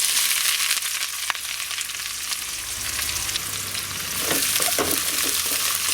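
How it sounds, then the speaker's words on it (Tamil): Onions sauté in a pan for a village-style vadakari, crackling and sizzling steadily up close, with a few scrapes and stirs of a spatula and no one speaking. "வெங்காயம் வந்து வதங்கட்டும்"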